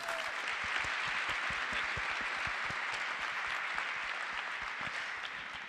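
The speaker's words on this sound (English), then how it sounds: "another round of applause" Large audience applauding at a 2025 medical school Match Day celebration, a steady sustained wash of clapping with no talk, fairly distant.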